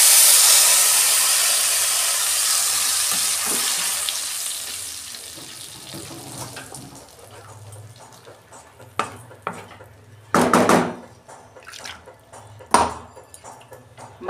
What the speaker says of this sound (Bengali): এইটা আমি পেস্ট করে ওই তেলে আমি কালো জিরে দিচ্ছি